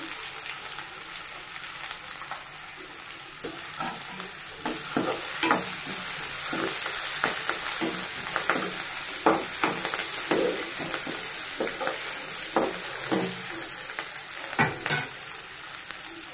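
Ginger garlic paste frying in a pan, with a steady loud sizzle and frequent scraping stirs that grow busier partway through. Close and continuous, no talking.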